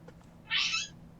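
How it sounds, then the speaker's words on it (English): A cat lets out a single very shrill, high-pitched meow, almost bird-like, lasting under half a second and heard alone over a quiet room hum. "That's a cat."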